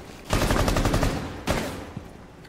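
Automatic gunfire in a Rainbow Six Siege match on the Club House map, a loud close burst of rapid shots followed by a second shorter burst and a faint final pop.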